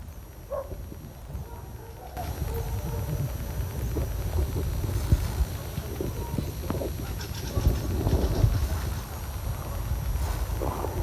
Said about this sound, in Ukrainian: От не знаю, що це за пташечка.